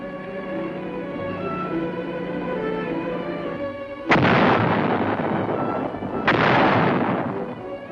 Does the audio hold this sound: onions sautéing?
no